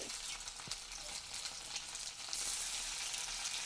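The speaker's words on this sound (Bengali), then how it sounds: "পনিরগুলোকে একটু এপিটোপিট ভেজে নেব" Homemade paneer pieces frying in hot oil, a steady close sizzle and crackle that swells a little louder toward the end, with no talking.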